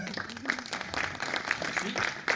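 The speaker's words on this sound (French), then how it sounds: "On peut l'applaudir" Audience at a French sound-experience talk claps for a presenter, a fairly faint, irregular spattering of applause from a modest crowd, with a voice murmuring underneath.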